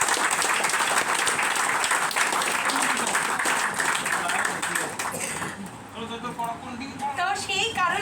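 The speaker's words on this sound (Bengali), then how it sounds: "স্যারের জন্য একটা জোরদার হাততালি হোক" Audience at a Vestige company office event in Sonarpur applauding a speaker, with loud sustained clapping that fades out toward the end as voices take over.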